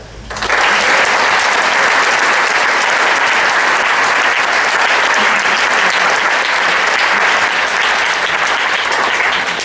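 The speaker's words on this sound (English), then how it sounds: "Let's have a round of applause for outstanding contribution to them." A large audience at a Lafayette, Louisiana high school wind ensemble concert breaks into loud, sustained applause that starts abruptly and holds steady for about nine seconds.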